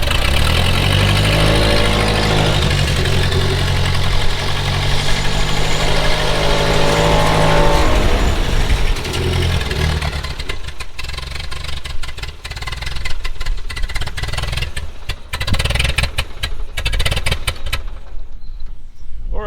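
A tractor engine with fuel problems runs at a steady, rumbling idle close by, then turns rougher and more uneven with sputtering pops toward the end.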